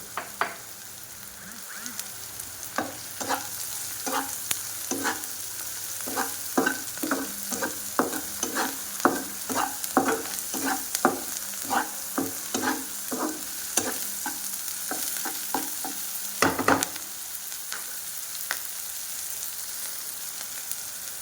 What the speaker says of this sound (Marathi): ही मिरची चांगली भाजण्यासाठी आपल्याला किमान पाच मिनटं तरी लागतो